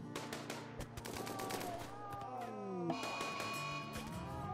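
Rapid gunfire from pirate raid combat in the video game RimWorld, a string of sharp shots and bursts running through a busy mix of game effects while a voice talks over it.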